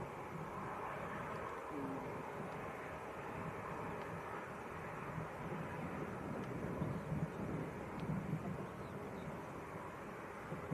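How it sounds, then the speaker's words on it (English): A Jet2 Airbus A321neo taxiing at Leeds Bradford Airport, a faint distant engine rumble with broad wind noise, steady and low throughout. "the A321 just taxiing out"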